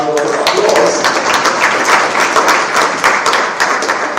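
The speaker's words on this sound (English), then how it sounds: "the panel deserves another round of applause" A university anniversary audience claps for a discussion panel, giving a steady, dense round of applause that lasts the whole stretch at fairly loud volume.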